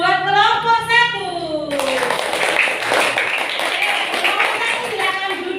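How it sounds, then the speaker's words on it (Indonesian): A class of children clapping for a group of classmates, a teacher's voice over the first seconds before a sudden burst of dense, steady applause that carries on to the end. "Tepuk tangan buat kelompok 1."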